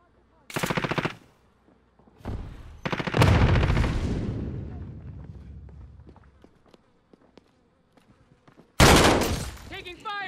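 Bursts of automatic gunfire in Call of Duty: Modern Warfare, loud and close, arrive in short volleys with a long decaying rumble between them and a final sharp burst, under intermittent radio-style callouts.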